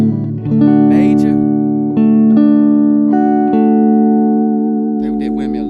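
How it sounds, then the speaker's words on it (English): A guitar strums a major chord in a key-of-D theory lesson, the full chord sustaining loudly and evenly, re-struck a few times with soft string noise between attacks. "Major."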